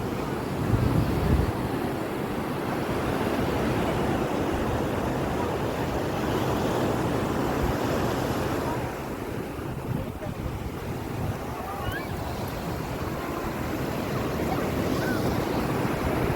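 Waves roll onto Kozhikode beach just after a boat ride, a steady, loud wash of surf mixed with heavy wind buffeting the microphone throughout, with no clear voices.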